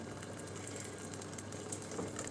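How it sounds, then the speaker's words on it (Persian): Boiling water from a kettle is poured into a pot of turnip soup with rice, making a steady hissing, bubbling wash of sound. "من یک مقدار آب جوش کتری رو باز بهش اضافه میکنم"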